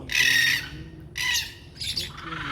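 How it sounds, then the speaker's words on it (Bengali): Birds squawk in Bethuadahari forest sanctuary, three loud harsh calls in succession, each lasting about half a second, close to the microphone with faint background noise between them. "দেখতে পেলে যে সত্যি এখানকার পাখিগুলো কতটা মনোরম চার্মিং তাই না"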